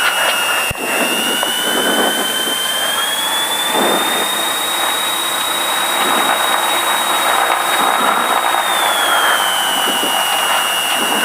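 Diamond DA42 twin-engine aircraft at full takeoff power, a loud steady engine roar with a high whine rising and holding, filling the cabin continuously without any talk.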